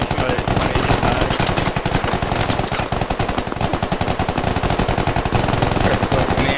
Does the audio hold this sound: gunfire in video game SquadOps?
yes